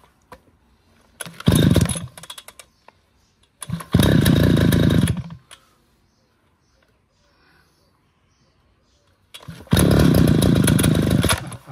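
A small gasoline engine is pulled over, probably a chainsaw or similar tool. It gives three loud bursts of a couple of seconds each, close by, with quiet pauses between them. People talk briefly in the gaps.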